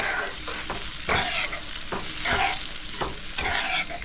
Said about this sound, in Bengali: আমি একটু সামান্য জল দিয়ে দিচ্ছি। সামান্য জল দিয়ে মিক্স করে নিচ্ছি।